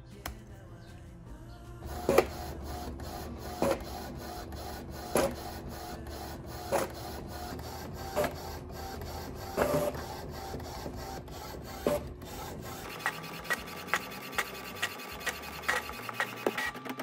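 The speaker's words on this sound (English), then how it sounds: "click print and send it to the Ricoh printer" A Ricoh printer running off a couple of sublimation design copies: a steady mechanical whir with regular sharp clicks and clunks roughly every one to two seconds, alone and close by, shifting to a lighter rattling rhythm near the end.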